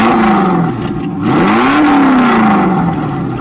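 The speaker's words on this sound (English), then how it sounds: "Alright, Sammy, start her up for me, would you? Just to give you an idea what she sounds like." A 2021 Lamborghini Aventador SVJ engine revving, a loud close roar whose pitch rises and falls across a couple of blips, holding steady and strong throughout.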